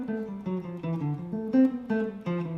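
A fast dominant bebop line, a running single-note melody over a full, longer 2-5 progression, moves in quick even phrases with short breaks and rings out clearly on its own.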